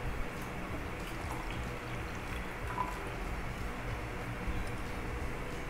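Hot water is poured for instant coffee in a home kitchen, giving a steady, soft liquid pour that runs for several seconds with no talking.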